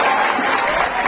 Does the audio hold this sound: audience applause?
yes